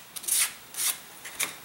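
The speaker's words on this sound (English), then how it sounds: "The rest of it I would give a general sanding real quick." Three short scratchy rubbing strokes of sandpaper worked back and forth by hand over a wooden model aircraft hull, close by with brief pauses between.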